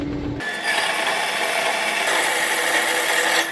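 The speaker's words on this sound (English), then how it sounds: "I'm going to cut each of these down to be about a foot." A power saw cuts pieces of wood down to about a foot in length, a loud close whine and rasp that starts abruptly after a moment and holds steady throughout.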